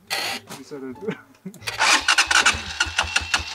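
A motorcycle engine starts partway through, then revs in repeated bursts at close range, with people talking before and over it.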